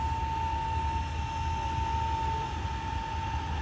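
Two vintage Beech Staggerwing biplanes taxi toward the runway at the Duxford Battle of Britain airshow, their radial engines making a steady, moderately distant drone with a faint sustained whine, no voices over it.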